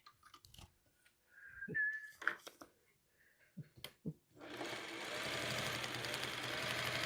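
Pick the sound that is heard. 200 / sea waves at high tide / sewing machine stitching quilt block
sewing machine stitching quilt block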